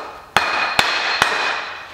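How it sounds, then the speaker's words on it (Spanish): Three sharp, ringing knocks from a rubber mallet striking a Citroen Peugeot engine part during cylinder head replacement, evenly spaced about half a second apart over a steady workshop background. "Cogemos un martillo. Ah, no. Martillo de goma."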